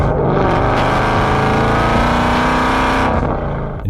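A 2018 Ford Mustang GT engine roars loud and steady, close by, with a dense low growl that holds for about three seconds before dropping away.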